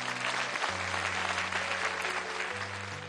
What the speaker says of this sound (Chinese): 能否响起一点点的掌声作为一次小小的支持呢